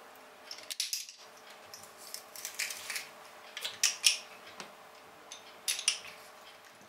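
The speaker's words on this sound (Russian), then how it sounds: "И выдавливаем чеснок через пресс." Garlic cloves pressed through a kitchen garlic press while preparing batter-fried chicken with sesame, giving a series of short, sharp metallic clicks and squeaks in an irregular rhythm, close and fairly quiet with no talking.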